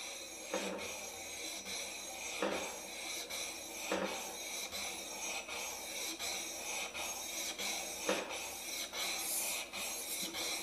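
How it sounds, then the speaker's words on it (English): A hand plane blade rubbed back and forth on a 1200 grit sharpening stone, a steady close rasping scrape with regular strokes and brief louder pushes every couple of seconds, with no voices. "So now I'm just going to do the same movements again, this time on the 1200 grit stone."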